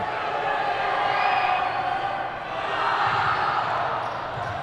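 A loud high school girls' basketball crowd making noise during an opponent's free throw, a sustained roar of voices and shouting that swells, dips briefly and rises again.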